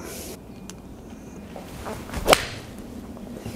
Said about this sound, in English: Let's try and get a better swing on this one.